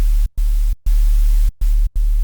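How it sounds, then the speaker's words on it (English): Noise oscillator from a default 3xOsc synth patch hissing as loud broadband static with a deep low tone underneath, cut into four chopped bursts by short silent gaps. "on the second oscillator, we're gonna choose noise and turn up the noise a little bit"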